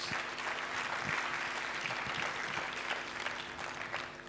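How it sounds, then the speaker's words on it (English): An audience at a Toastmasters conference in Qatar gives sustained applause, many hands clapping evenly in a steady, full wash that holds for several seconds, recorded somewhat faintly from within the room. "Please give him a very big round of applause."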